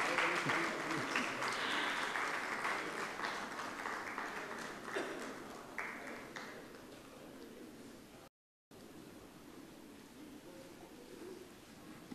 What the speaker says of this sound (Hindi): आपकी तालियों का साउंड भी अगर हो जाए।